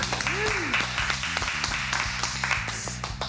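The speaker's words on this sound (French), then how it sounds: "Messieurs, applaudissements à la belle Christelle." A group claps for a woman on a reality TV show, a run of rhythmic, crisp handclaps over background music, with a voice briefly audible.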